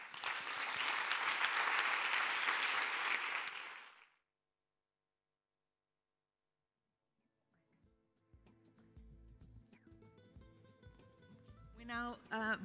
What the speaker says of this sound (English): Big round of applause for Alastair.